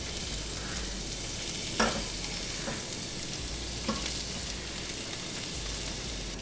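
Plant-based food frying in a pan, a continuous close sizzle and crackle with a couple of small pops scattered through.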